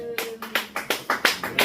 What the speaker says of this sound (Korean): 다시 한번 하나님께 영광의 박수 드리겠습니다.